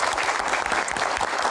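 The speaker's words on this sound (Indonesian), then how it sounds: "Tepuk tangan para panelis." Brief burst of audience applause for panelists at an Indonesian evening talk show event, dense and loud clapping with no pause.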